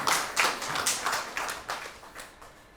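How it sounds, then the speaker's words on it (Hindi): Audience applause for performers after a stage play, a run of loud, bright claps and taps rising and fading in bursts, close and without any talk. "बस जोरदार ताली से।"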